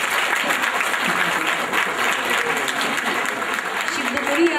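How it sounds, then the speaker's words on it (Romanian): A graduation ceremony audience at a school festivity applauds the graduating class, a continuous, fairly loud roll of many hands clapping without pause, with faint voices mixed underneath. "haideți să le dăm un rând de aplauze pentru ceea ce sunt"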